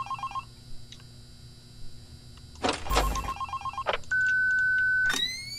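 Telephone ringing in the horror video game Five Nights at Candy's: two short bursts of a repeating electronic bell tone, followed by a steady held beep, with clicks and handling noise in between.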